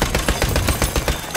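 An enemy machine gun in Battlefield 1 fires in a loud, sustained automatic stream, with rapid evenly spaced shots rattling close by for the whole moment.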